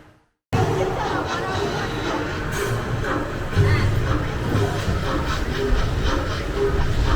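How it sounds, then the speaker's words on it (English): A theme park train at Universal Orlando rolling along with a steady rumble and rhythmic clatter of wheels, some hissing, a loud continuous ride after a brief quiet start. "We're gonna get on a train and ride"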